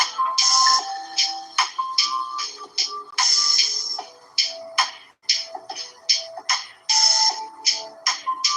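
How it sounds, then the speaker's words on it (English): Electronic phone notification tones chime over and over in a dense, overlapping series of short bright beeps and jingles, fairly loud and close, with no talking. "Notifications kicking in behind notification."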